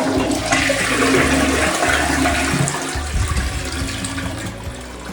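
A newly fitted toilet flushing nearby: a loud rushing gush of water that swirls and drains, then tapers into a quieter refilling trickle, with no talk.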